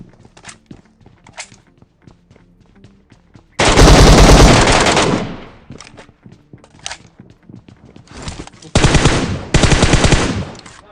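Gunfire in the mobile game PUBG Mobile: two loud bursts of rapid automatic fire, each lasting a second or more, separated by quieter in-game footsteps and shuffling.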